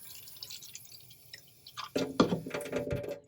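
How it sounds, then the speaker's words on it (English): Water is poured from a tap or jug into a small cup, beginning with faint drips and then a louder splashing fill during the last second and a half. "I'm grabbing a cup and I am just filling it up around halfway"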